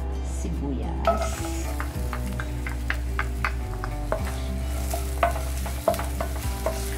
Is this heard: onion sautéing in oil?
yes